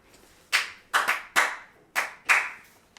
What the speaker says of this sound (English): voice record those claps and send it back to me